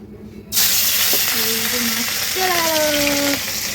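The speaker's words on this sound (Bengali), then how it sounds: "এ কড়াইতে মাছ চলেছে" Fish sizzles and spits in hot oil in a wok (kadai), a loud close hiss that starts abruptly and holds steady, with a few tonal squeaks over it.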